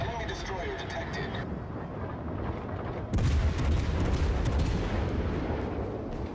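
Heavy naval guns firing from a warship in World of Warships: Legends, a deep booming blast near the middle followed by rumbling, over continuous battle noise and engine drone.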